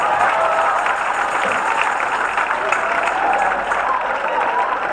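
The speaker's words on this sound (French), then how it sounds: "Veuillez applaudir l'ASC." A congregation applauds the ASC during a worship service: a dense, steady wash of clapping that runs unbroken through the whole stretch at an even level, with faint crowd murmur and voices underneath.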